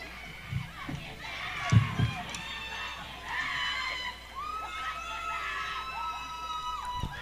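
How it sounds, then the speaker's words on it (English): Crowd cheering and shouting at an athletics track race as runners come onto the straightaway, a steady roar of many voices with shrill high cries, swelling and holding loud behind an announcer's voice. "Crowd in an uproar"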